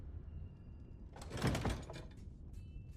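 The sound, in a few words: door closing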